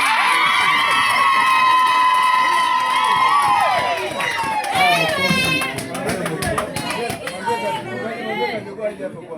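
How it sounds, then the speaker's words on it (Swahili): Congregation applause at a Swahili church service for a deacon. Loud crowd voices and ululating singing give way to a sustained burst of clapping that mixes with chatter and shouts. "Hayo makofi hayatoshi"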